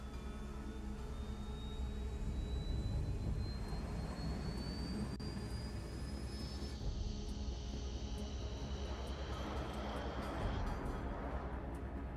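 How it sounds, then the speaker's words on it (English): A jet plane in the video game Ace Combat 7 roars steadily as it accelerates, a loud continuous engine rush with a rising whine and a shift in tone partway through, heard alone. "All this plane could do was take off, accelerate, and fly up."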